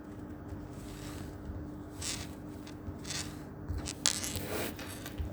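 Eraser rubbing across a writing surface during a calculus lesson on antiderivatives, giving faint, scratchy bursts of scrubbing in uneven strokes with short pauses between them.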